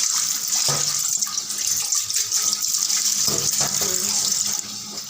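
Water pours steadily from a household tap, an even, close hiss that runs unbroken from start to finish, with faint knocks in the background.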